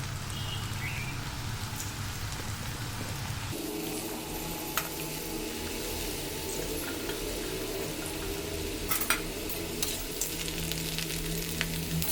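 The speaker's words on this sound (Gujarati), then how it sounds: "તેલ આવી ગયા બાદ આપણે આ બધા કુકુરીને તળવા માટે એડ કરીશું" Homemade kurkure snack pieces deep-fry in hot oil over a medium gas flame, giving a steady, close, dense sizzling hiss that thickens after a few seconds, with scattered crackles and pops and no talking.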